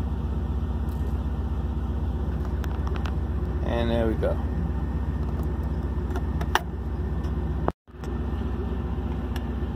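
A 2001 Camaro SS with an LS1 V8 idles with a steady low rumble, then shuts off abruptly, leaving near silence. Someone speaks briefly over the engine.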